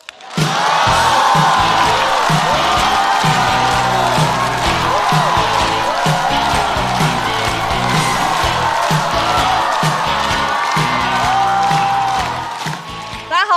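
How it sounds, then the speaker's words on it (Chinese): A stand-up comedy audience greets a comedian, a former border police officer, with loud, sustained applause and cheering that fills the room before fading at the end. "掌声欢迎火锅"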